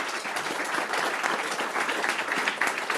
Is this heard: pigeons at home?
no